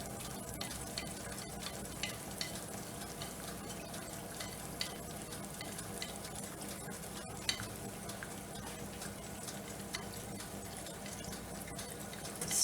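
Egg frying in grease in a small cast iron skillet, a steady close sizzle and crackle running throughout with faint scraping as grease is spooned over the top.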